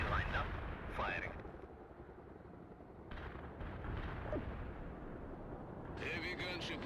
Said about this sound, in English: Firing solution ready. Artillery lined up. Firing.